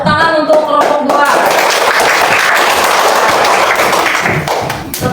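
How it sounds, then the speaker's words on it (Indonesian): A classroom of students claps for a presenting group during a lesson on zakat in Islamic religious education, a voice speaking at first before a dense, steady burst of clapping fills the rest of the moment. "Tepuk tangan untuk kelompok 2"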